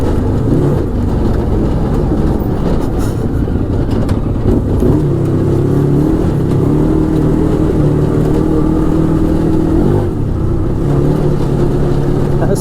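An Arctic Cat Wildcat 1000X side-by-side drives along, its engine droning close and loud, then rising in pitch through two strong surges of acceleration before easing back, with a steady rumble throughout.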